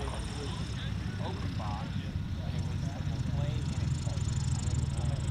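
A STOL airplane drones steadily as it lands and stops on a short driftwood runway at an Arkansas STOL competition, with a commentator talking over the engine throughout.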